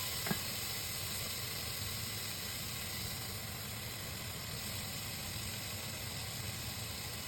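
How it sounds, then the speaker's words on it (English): Garlic sizzling with crispy pork in a pan for Filipino pork adobo: a steady, even hiss of frying fat running unbroken throughout, moderately loud and close with no talking. "Once the pork is nice and crispy, add in the garlic. Let them cook down until they're soft and fragrant"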